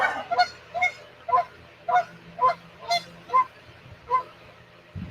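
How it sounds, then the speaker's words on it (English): Loud, close goose honks ring out about twice a second in a steady series of eight or so calls. "Y'all hear that goose?"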